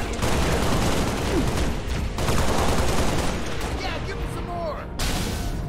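Rocket launcher fire and blasts in the Halo Reach campaign: dense, loud bursts of firing and explosions run continuously with heavy rumble, punctuated by sharp whooshing impacts and a brief dip before resuming.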